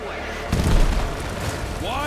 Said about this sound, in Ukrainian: все взривається там, тут